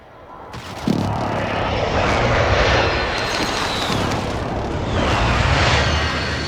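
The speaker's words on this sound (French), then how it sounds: "Attention, bombardement de précision en approche." Incoming precision airstrike in the Modern Warfare video game, with a loud sustained aircraft engine roar and rumbling bombardment booms filling the whole stretch, starting with a sharp onset and swelling again near the end.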